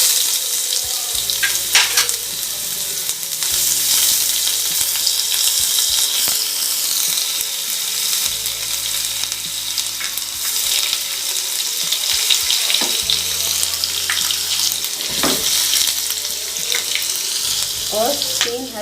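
Garlic and ginger fry with white cumin in a pan, giving a loud, steady sizzle broken by stirring scrapes and clinks, with no voice over it.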